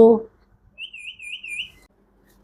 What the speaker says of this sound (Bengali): এটা চন্দনা পাখি ভাইয়া চন্দনা পাখি